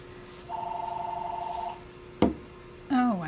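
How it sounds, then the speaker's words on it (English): A telephone rings indoors during an acrylic pour painting session, giving one buzzing, pulsed ring of just over a second, followed by a sharp click and another tone. "Does my phone have to ring now?"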